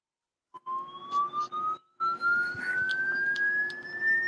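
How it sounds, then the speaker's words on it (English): A police siren wails with one rising tone that briefly cuts out and then resumes, fairly close and clear with no talk over it. "Like now I'm hearing police sirens."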